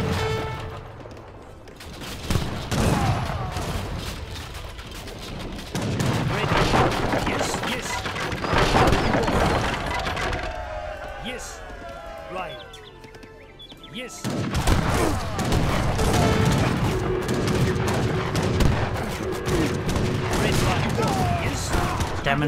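Artillery booms and scattered gunfire in an Age of Empires 3 historical battle at Queenston Heights, with bursts of volleys and crashes through most of the stretch and a brief lull in the middle.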